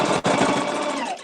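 A sewing machine runs steadily while stitching the seam of a fabric mask, a loud close rapid mechanical whir with one brief pause before it picks up again and slows at the end.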